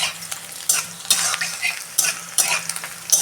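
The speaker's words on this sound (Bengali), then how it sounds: "এই যে আমি কারি পাতা দিচ্ছি" Curry leaves frying in hot mustard oil for a potol bhorta, a bright sizzle with repeated spatula scrapes and stirring strokes in an irregular rhythm, close and fairly loud with no talking.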